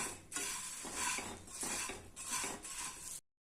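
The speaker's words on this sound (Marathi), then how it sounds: "तर असं खरपूस भाजून घ्यायचं छान असं, 1-2 मिनिट फक्त हलवून घ्यायचं त्याला" Puffed rice is dry-roasted for murmura ladoos, stirred in a pan in repeated rustling, scraping sweeps that rise and fall in waves, fairly quiet and close, with no talking.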